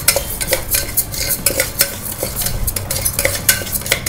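Moong dal is stirred in hot ghee inside a pressure cooker, a close, continuous scraping and rustling of spoon against metal with soft crackles, no talking.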